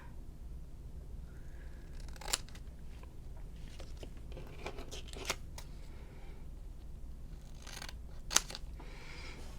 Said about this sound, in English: I'm gonna just cut these in half with my big scissors.